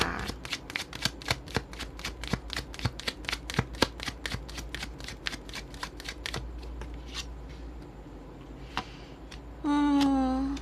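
Tarot cards being shuffled for a reading, a long run of quick, crisp riffles and snaps close by and loud, thinning out after about six seconds into softer handling, with a brief tonal whine near the end.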